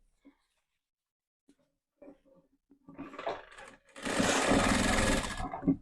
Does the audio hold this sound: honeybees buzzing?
no